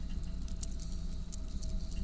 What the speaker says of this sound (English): Something zips onto the deck beside you. It's a small piece of hail, sizzling.